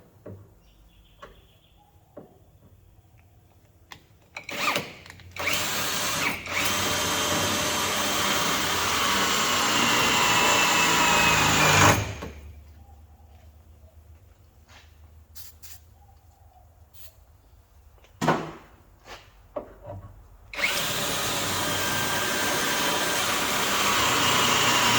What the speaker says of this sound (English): and I'll drill these spot welds out.